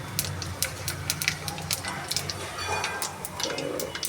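Nigella seeds (kalo jeere) hit hot oil in a kadai, giving scattered sharp crackles and pops over a soft, faint sizzle.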